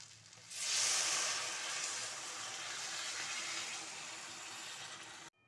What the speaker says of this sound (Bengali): এবার এর মধ্যে পরিমাণ মতো জল দিতে হবে।